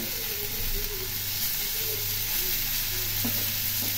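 Green chillies and spices such as cumin, coriander, chilli, ginger and tomato fry in hot oil, giving a steady, dense sizzle close by with faint utensil scrapes near the end.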